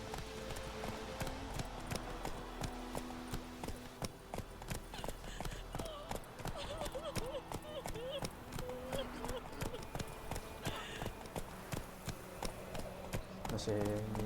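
Horse hooves gallop in The Witcher 3 video game, a steady rapid clip-clop rhythm running throughout, with game music and someone talking over it.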